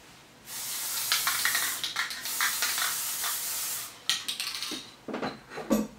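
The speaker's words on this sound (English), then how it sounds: "give it a little bit of spray glue" Broadband hissing spray from an aerosol can of spray glue applied to a tube held in a drill, in a few steady bursts with brief breaks, close by and fairly quiet, with no one talking.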